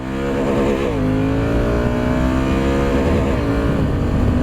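Honda Africa Twin DCT motorcycle accelerating hard in a 40 to 80 pull, its engine roaring loud and close with rising pitch and a brief shift-like dip, alone without talk.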